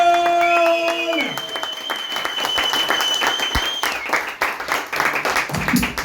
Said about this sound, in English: Everybody cheer, clap, and welcome Eddie